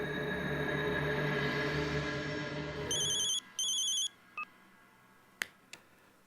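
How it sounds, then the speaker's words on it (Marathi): A phone call is placed in a Marathi drama serial: music fades into a run of paired electronic dialing tones, then a few short beeps and clicks. "वेट, आबाला फोन लावतो ना मी."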